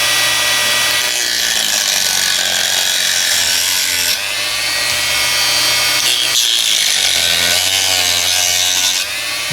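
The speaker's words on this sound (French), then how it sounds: "je fais ça à partir d'une petite Dremel" A small Dremel rotary tool set to its lowest speed cuts into a plastic waterproof container with a plastic-cutting blade. It makes a continuous whining, grinding buzz whose pitch wavers as the blade bites, loud and close.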